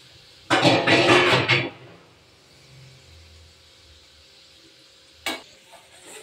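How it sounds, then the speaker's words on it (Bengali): Sweet khaja fries in oil on a gas stove. A burst of loud crackling sizzle lasts about a second, quieter bubbling follows, and a short sharp hiss comes later, all close up with no talking. "গ্যাসটা কিন্তু এখন একটু লো ফ্লেমে আছে। হ্যাঁ, হাই আর লো এইভাবে করে করে ভাজবে"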